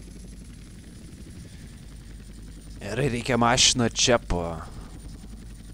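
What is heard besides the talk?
helicopter flying in the video game GTA San Andreas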